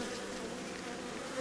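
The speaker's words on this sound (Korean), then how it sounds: "근데 이렇게 날개짓 하는 애들이 이렇게 보이죠 여러분. 웽웽 하는 애들 있죠." Honeybees at a hive buzz steadily, wings fanning in a dense close drone with no talk, in a weak colony that may have lost its queen.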